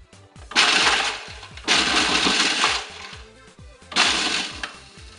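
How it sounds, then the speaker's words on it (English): A food processor grinds graham crackers into fine crumbs in three loud pulsed bursts, with a harsh rattling whir and short pauses between them. "pulse it a bit, and then I'm going to process it so that it becomes fine crumbs"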